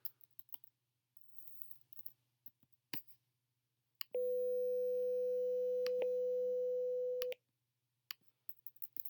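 Two close tones beat in and out, holding for about three seconds as a steady tone with faint clicks and taps before and after it.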